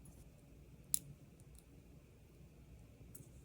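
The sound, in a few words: snipping wire ends off a wire-wrapped pendant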